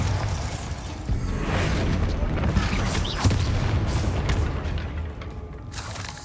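Bombarda explosion spell cast in Hogwarts Legacy, a dense, continuous rumbling blast with heavy low-end booms and crackling debris, steady and loud throughout with a sharper impact around the middle and faint voice underneath.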